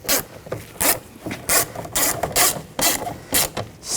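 Screws being driven in with a ratchet to fasten a window regulator bracket inside the front door of a 2014-2020 Nissan, heard as about ten short, close, regular clicking bursts separated by brief pauses.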